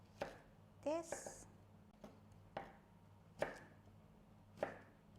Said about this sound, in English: So just chop it